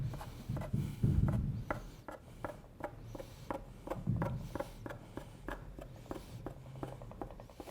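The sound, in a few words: knife cutting gnocchi dough on floured board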